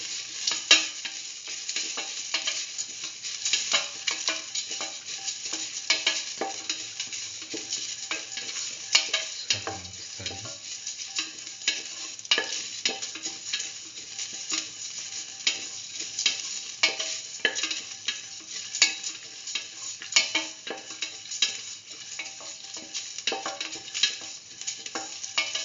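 Ginger and salt fry in hot oil in a pan for a curried mustard chicken, a continuous close sizzle with irregular scraping and stirring strokes throughout, no voices.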